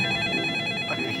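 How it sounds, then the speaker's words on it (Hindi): A telephone rings in a steady, continuous electronic trill with bright stacked tones, moderately loud and uninterrupted, inside a Hindi animated children's cartoon scene, with no voices over it. "ये प्रिया बार बार फोन कर रही है, क्या करूं इसका?"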